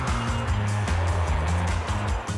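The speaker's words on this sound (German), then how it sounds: "Auf der Champs-Élysées macht es heute nur brrr. Einer der lautesten Orte von Paris." Car traffic on the Champs-Élysées in Paris, one of the city's loudest streets, makes a dense, steady drone of engines with repeated low revving surges as vehicles accelerate and pass, close and unbroken.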